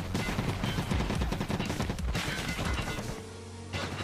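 Rapid bursts of gunfire ring out in an arena shooter game, loud and dense for about three seconds, then dropping briefly before the shooting resumes.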